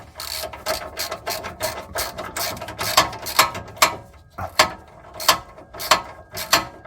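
Ratchet wrench clicking in repeated bursts while tightening engine mount bolts on a Mercedes GLE350, close and crisp, with short pauses between strokes.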